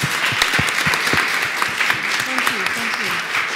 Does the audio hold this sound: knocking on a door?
no